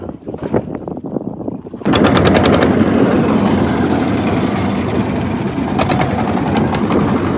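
A trawler boat's engine chugging in the middle of the Padma river, first muffled and uneven, then a loud, steady rattling drone with rapid rhythmic knocking that continues to the end.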